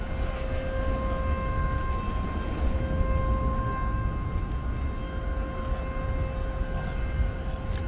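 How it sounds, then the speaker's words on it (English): An air start unit serves a UPS cargo plane at DFW Airport at night, giving off a loud, continuous siren-like whine with steady tones over a heavy rumble that holds unchanged throughout. "that siren sounding noise blaring in the background is an air start"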